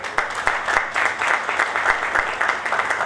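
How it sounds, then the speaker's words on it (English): Steady audience applause at an MSME business event, dense clapping filling the room at an even level for a few seconds with no voices on top. "let's have a big round of applause for"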